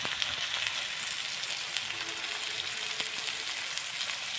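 Onions, tomatoes and spices fry in a pan while being stirred, giving a steady, close sizzle throughout with faint scraping, and no talking.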